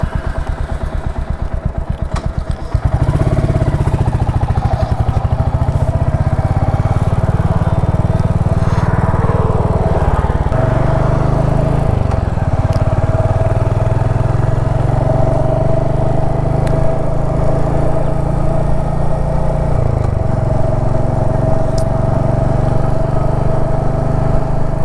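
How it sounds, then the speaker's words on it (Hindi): Hot motorcycle engine idling with a rapid mechanical ticking from the cylinder head, a steady loud close-up clatter running continuously after a short quieter start, no voices. "इंजन जब हीट हो जाता है तो उसके सिलेंडर हेड से टिक टिक टिक टिक करके कुछ अजीब सी आवाज़ आती है"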